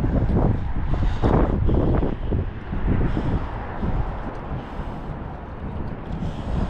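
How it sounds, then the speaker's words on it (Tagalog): Strong, cold wind blowing outdoors, buffeting the microphone in loud, rumbling gusts that swell and ease continuously throughout, with no talk heard. "Lakas ang hangin."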